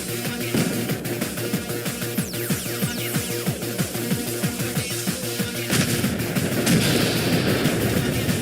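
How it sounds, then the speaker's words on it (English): Explosions and gunfire-like blasts in a video game come in a rapid, dense barrage of sharp, loud bursts, rolling on continuously and swelling toward the end. "Let that explosion play out."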